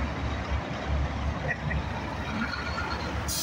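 Kenworth truck at the Port of Wilmington, a steady low engine rumble heard from nearby amid ambient traffic noise, without speech.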